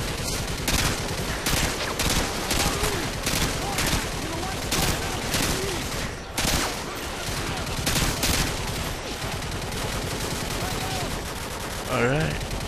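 Gunfire in Modern Warfare 2: dense, loud bursts of automatic weapon fire rattle almost nonstop, with a short gap midway and a voice briefly heard near the end.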